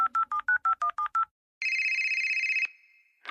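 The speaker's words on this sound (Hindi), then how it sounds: "रोहित को फोन करती हूँ।" Eight quick telephone keypad tones beep in steady succession while dialing a phone, then a long steady electronic tone sounds, and a ring begins at the end.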